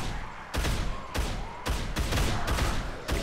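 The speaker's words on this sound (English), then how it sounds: "Even though I am shooting these guys" Gunshots against zombies in the Dead Island game ring out as about six loud, evenly spaced shots, each with a short decay, close and with no talk.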